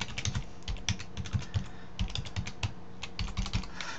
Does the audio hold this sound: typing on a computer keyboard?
yes